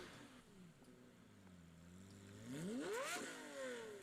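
A Lamborghini 6.5-liter V12 making 670 horsepower idles low, then revs sharply upward to a high rising wail before falling back, heard alone and fairly faint.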